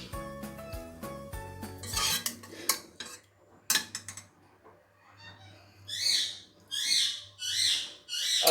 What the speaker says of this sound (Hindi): अब आखिर में मैं डिश आउट करने लगी हूँ